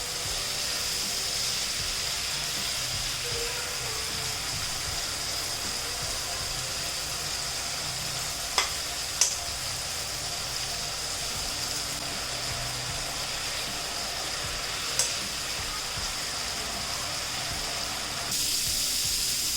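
Prawns fry in a pan with a steady, even sizzle that holds throughout, broken by a few faint sharp clicks of stirring, and no talk.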